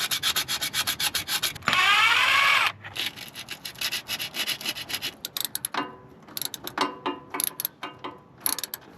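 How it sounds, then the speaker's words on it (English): Coarse 80-grit sandpaper scrubs back and forth on the metal end of a starter cable from a Chevrolet Suburban, giving fast rhythmic rasping strokes with one long continuous rub in the middle, close and loud with no talking. "I've also got this piece of 60 grit sandpaper. Or 80 grit, excuse me."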